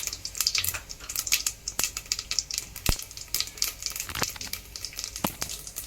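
Steady sizzling of asafoetida added to hot oil after mustard seeds and cumin, with rapid crackles and sharp pops, close and lively, no one speaking.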